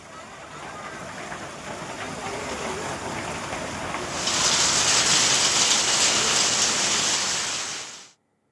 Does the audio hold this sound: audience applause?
no